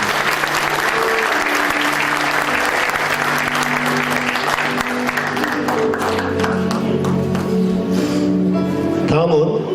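A crowd at an architecture department's 40th anniversary ceremony applauds loudly and continuously, with music playing beneath the clapping throughout.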